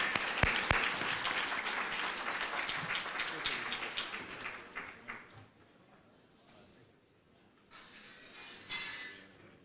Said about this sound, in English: let's give a round of applause for Deputy County Executive Mr.